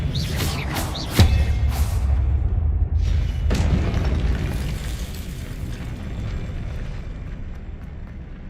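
Blasting-curse explosions from the Hogwarts Legacy video game: a sharp, loud boom near the start followed by a second burst, each with a rumbling low tail that fades over several seconds.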